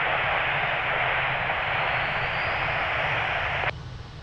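An aircraft at Lisbon Airport roars steadily in a loud, broad engine rush near runway 02, holding even before dropping off abruptly at the end.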